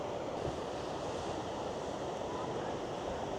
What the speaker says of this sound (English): If I shut up in a minute, you might be able to hear the sea behind me.